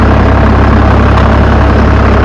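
A Same Frutteto orchard tractor engine runs at a fixed speed while spraying an olive grove, a loud, close, steady low drone with no change in pitch.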